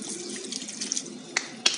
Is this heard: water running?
yes